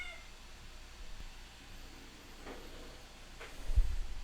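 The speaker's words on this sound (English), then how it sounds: "Theirs cry, mine meows." A house cat meows faintly a couple of times in a quiet room, thin short cries set against low background hiss with no talking.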